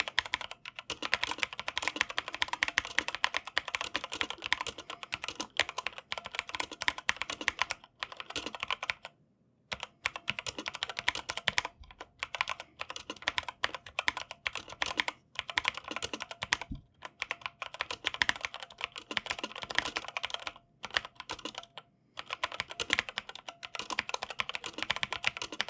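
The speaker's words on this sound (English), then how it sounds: "So here's a quick sound test on the BK67 from Motospeed." Fast, continuous typing on a Motospeed BK67 65% mechanical keyboard with linear switches, dense clacking keystrokes close up with a few brief pauses, no voices.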